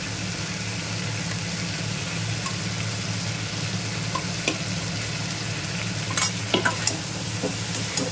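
Eggplant pieces fry in thickened spice masala over a raised gas flame, for a light curry of live bata fish. A steady close sizzle runs throughout, with scraping stirs and a few sharp clinks of the spoon near the end.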